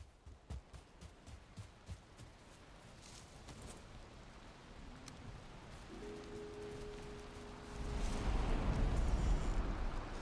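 Rain falls in the Valheim survival game as a soft, hissing wash that stays faint at first, then swells noticeably louder near the end, with a few light thumps and no talk.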